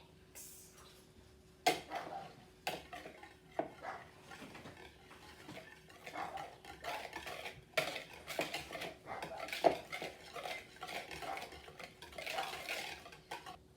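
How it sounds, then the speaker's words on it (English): A whisk clatters against a bowl while batter with sugar is mixed for homemade pancakes, irregular scraping and tapping strokes of varying loudness, close and without talk. "Whisk until it's mixed."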